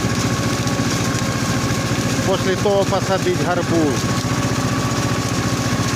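A motor tiller (rotary cultivator) runs steadily in a tall corn field, its close, continuous engine drone holding throughout while someone talks over it.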